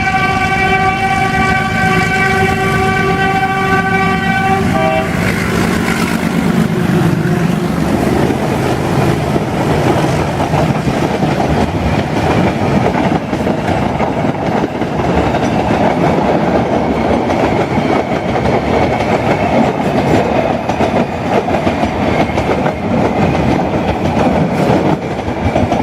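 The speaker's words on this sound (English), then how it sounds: "This is a passenger train, rear side, meter gauge line." A meter gauge passenger train on the Mhow–Khandwa line passes, heard from the rear side. A horn blares for the first few seconds, then a loud, steady rumble and clatter of the carriages rolling by fills the rest.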